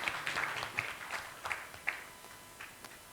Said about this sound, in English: let's clap for group 2